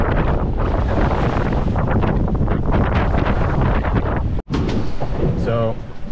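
Strong wind of around 30 knots roaring across open ocean aboard a solo sailboat, loud buffeting gusts over the microphone with wave wash beneath, one abrupt dropout near the end.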